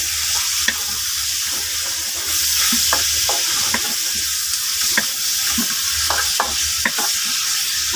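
Steady sizzling of chicken frying in a pan, with sharp clicks and scrapes of stirring scattered throughout; no voices.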